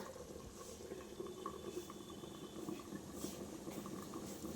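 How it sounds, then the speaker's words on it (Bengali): Meat gravy bubbles in a pot with a soft, steady simmer and faint gurgling, quiet and close. "ঝোলটা ফুটছে"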